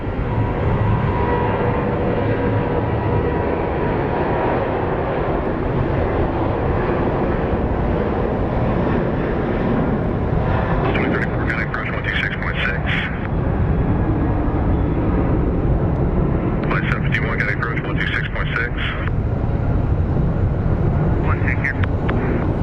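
Airliner taking off at Phoenix Sky Harbor airport, a loud, sustained engine roar that fills the whole stretch while radio voices break in over it.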